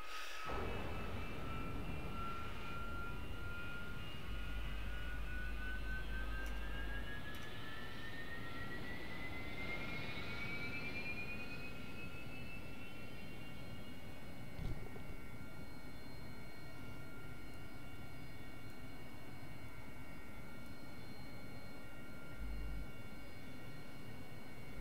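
Engine of a Yak aircraft in the DCS World flight simulator: a steady, fairly loud drone with a rising whine, running throughout without speech.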